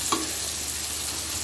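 Fish and vegetables frying in oil in a pan in a Bengali home kitchen, a steady soft sizzle throughout with a brief stir or clink near the start, no voices.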